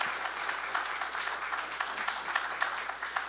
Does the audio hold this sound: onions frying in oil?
no